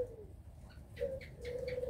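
A large pet bird, likely a dove or pigeon, gives soft low coos in two short bursts, close and quiet against faint room noise.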